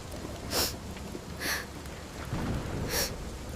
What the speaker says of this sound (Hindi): बाहर गिरती बारिश की आवाज़